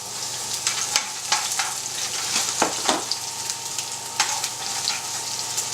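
Garlic and onion sizzle steadily in a hot pan while being stirred, a continuous close frying hiss broken by soft scraping clicks, with no talking over it.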